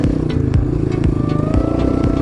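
2003 Honda CRF230F dirt bike, a two-valve low-end thumper, idling loud and close with a steady low thumping beat and a faint rattle, and no voices.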